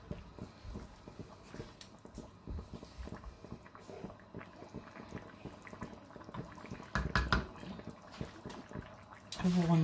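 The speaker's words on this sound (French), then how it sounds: "Vous remettez de l'eau." Water poured into a pan of vegetable and tuna risotto with rinsed rice, a steady liquid rush and bubbling that swells louder near the end, close by amid kitchen clatter.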